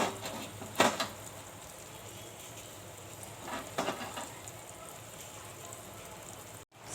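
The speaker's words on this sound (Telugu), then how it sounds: "సాల్ట్ వేసాను కదా, ఇప్పుడు బాగా కలిపుకుందాం." Chopped ivy gourd pieces fry with salt in a pan, giving a steady close hiss and crackle with a few louder scraping stirs of the spoon rising above the sizzle.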